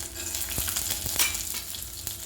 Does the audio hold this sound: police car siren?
no